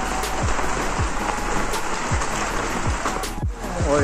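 Steady rain falls on a market street in Nainital, a dense, loud hiss of drops on wet surfaces with a few passing vehicle sounds underneath.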